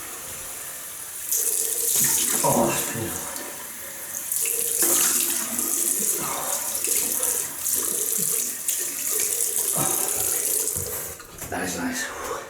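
Cold tap water gushes into a sink in bursts, splashing close by, while someone talks and exclaims over the running water.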